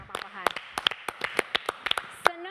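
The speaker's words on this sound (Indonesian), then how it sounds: "kita kasih tepuk tangan dong untuk Pak Papahan." A few people at an Indonesian health event clap in sharp, uneven strikes close by, mixed with talk from the group.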